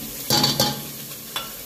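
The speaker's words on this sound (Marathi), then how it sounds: "चांगला भाजून घ्यायचा आहे, तेल सुटे तोपर्यंत" Masala spice paste frying in oil in a pan for Kolhapuri tambda pandhra rassa, a soft sizzle under a few brief stirring scrapes, close and moderately quiet.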